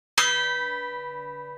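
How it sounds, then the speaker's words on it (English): A single bell at a front door is struck once and rings out loudly with a bright metallic clang, then hums on with a long, slowly fading sustain. "and then he rings the bell."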